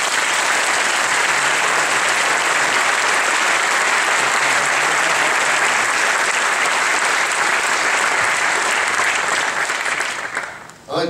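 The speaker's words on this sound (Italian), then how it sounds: "tanti applausi del popolo, della gente comune" A theatre audience at the Teatro Argentina in Rome gives a long, dense, steady ovation at a farewell tribute to Luca De Filippo, loud and continuous before thinning abruptly at the very end.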